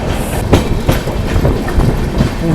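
Haripriya Express train running from Kolhapur to Tirupati through the Western Ghats in heavy rain, loud close rumble with rhythmic clickety-clack wheel beats over the rails.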